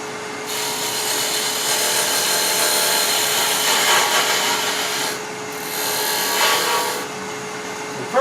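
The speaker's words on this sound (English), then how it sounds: "mark that, true this up first. I'll do that with a parting tool" A parting tool cuts into wood spinning on a lathe as a miniature birdhouse is trued. The scraping is close, steady and loud for about eight seconds over a constant motor hum, with two short breaks in the cut and no talking.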